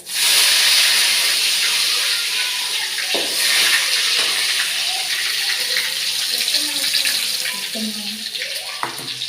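Curry leaves hit hot oil with spluttering mustard seeds, setting off a loud, continuous hissing sizzle with small crackles and pops scattered through, steady and close.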